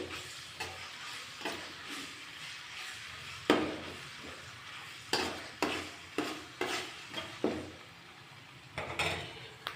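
Ginger garlic paste frying in a pan while a spoon stirs it: a soft, close sizzle runs throughout, broken by a series of light scraping knocks against the pan.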